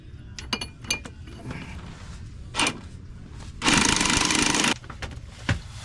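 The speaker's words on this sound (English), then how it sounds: "So we can just zap it in with our impact." An impact wrench runs in one loud burst of about a second, driving on a new driveshaft nut on a Jeep. Scattered clanks and handling noises of the tools and parts come before and after.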